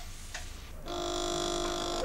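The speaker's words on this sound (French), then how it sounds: "55 secondes pour toaster et saucer, une sonnerie rythmant chaque opération." A kitchen timer signal in a 1979 McDonald's restaurant in France sounds as a sustained electronic tone that begins partway through and holds steadily to the end, over faint background kitchen noise.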